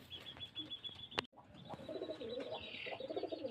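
Pigeons kept for sale in a loft at a Beldanga bird market, giving soft low cooing in a repeated rhythm close by, with a brief sharp knock and faint chirps, no talk.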